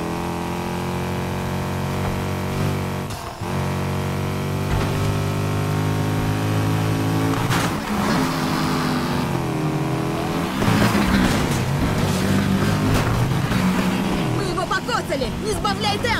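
A car engine races in the Need for Speed Heat video game, a sustained loud revving drone with rising and falling pitch, occasional sharp whooshes and impacts, while voices talk over it.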